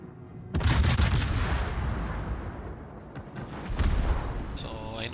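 Naval guns boom in World of Warships: two heavy, rumbling salvos, one near the start and another about three seconds later, each trailing into a rolling, echoing tail with no talking.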